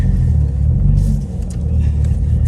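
A turbocharged 2008 Saab 9-3 Aero XWD engine runs steadily, a loud, close, continuous low rumble that barely changes over a few seconds, with no talk.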